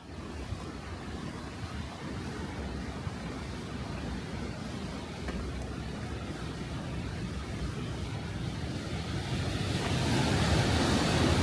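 Constant broadband rush of a river on the Tour du Mont Blanc trail, loud and unbroken, swelling slightly louder toward the end.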